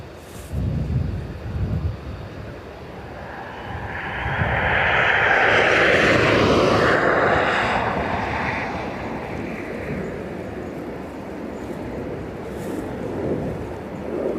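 Finnair airliner pushing back at a Dublin Airport gate, its engine whine and jet roar rising to a loud broad swell in the middle before settling into a steady lower hum, with some rumbling thumps at the start.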